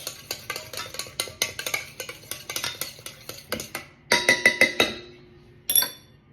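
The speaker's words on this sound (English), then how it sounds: "make sure to mix up this egg and milk one" A utensil whisks egg and milk together in a bowl, producing quick repeated clinks and taps against the side, steady at first, then a faster sharper burst and a final knock.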